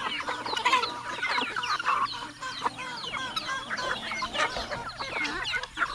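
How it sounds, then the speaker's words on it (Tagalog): A flock of farm chickens clucks busily while being fed banana, a dense, continuous chatter of many hens close by with occasional sharper squawks and no talking. "Ignorante yung mga manok natin sa saging."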